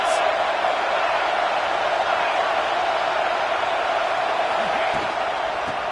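Football stadium crowd roaring for the defense on a big third down in a college game, a broad sustained wash of cheering that stays loud and steady throughout.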